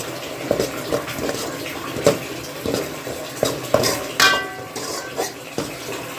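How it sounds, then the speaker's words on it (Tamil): A spoon scrapes and clinks around a metal pan of curry in a series of irregular strokes, with wet stirring sounds close by and no talking. "கலக்கி விட்டுருங்க."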